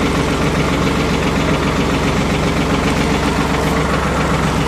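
A Ford 4110 tractor's diesel engine runs loud and close, a dense, constant knocking rumble that holds at a steady pitch throughout, with no voices.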